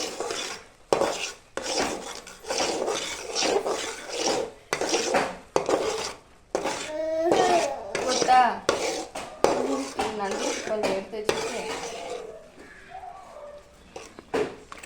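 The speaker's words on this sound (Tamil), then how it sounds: "அடுத்தது பெப்பர் நல்லா கிண்டி விட்டுக்கலாம்" A utensil scrapes and clatters against a pan while pepper is stirred into pasta, in repeated short strokes with brief gaps, close and fairly quiet, with a voice speaking partway through.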